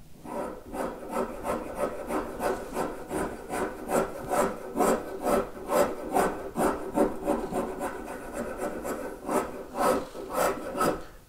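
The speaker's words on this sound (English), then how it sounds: "The rasp helps you refine and take the ridges out of the cutting surface from left from the spokeshave." A rasp smoothing a live-edge walnut countertop after spokeshave work, regular rhythmic back-and-forth rasping strokes, close and steady, about two per second with no talking.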